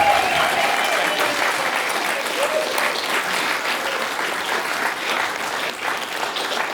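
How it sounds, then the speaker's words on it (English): Wedding guests applaud in a steady, sustained round of clapping from a sizeable crowd, filling the room evenly for several seconds without a break. "Can I get a little round of applause?"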